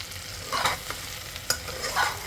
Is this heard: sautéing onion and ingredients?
yes